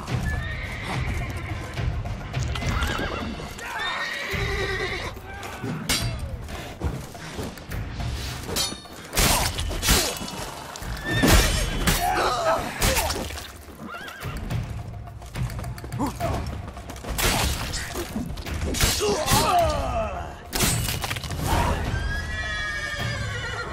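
In the video game The Witcher 3: Blood and Wine, horses whinny repeatedly while hooves clop and shuffle nearby, with occasional thuds and clatter, fairly loud and busy throughout.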